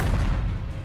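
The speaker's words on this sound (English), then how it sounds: "there's going to be a whole lot of explosions." Heavy explosions in a World of Warcraft goblin trailer set in Undermine, a loud, booming low rumble that swells and slowly fades over a short burst, with no talk.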